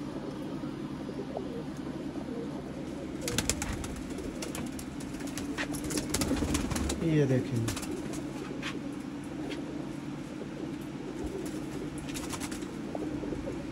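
Sialkoti pigeons coo softly among low background hum and rustling, with brief flapping sounds and a short spoken remark partway through.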